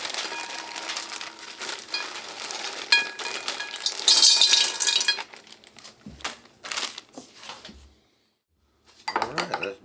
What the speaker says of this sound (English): let's dump these chocolate coated Jello balls into my pot